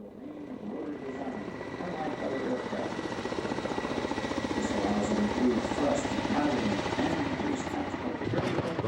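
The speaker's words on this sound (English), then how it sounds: "Kamov has pioneered a counter-rotating blade design that provides enough stability to eliminate the need for a delicate tail rotor altogether" Kamov Black Shark attack helicopter with counter-rotating coaxial rotor blades, its rapid rhythmic rotor chop and turbine whine holding steady and swelling slightly as it nears.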